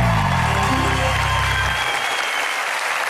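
A studio audience at the Turkish TV game show Çarkıfelek claps in a loud, dense, steady burst that fills the whole stretch, with a low musical tone underneath that fades out partway through.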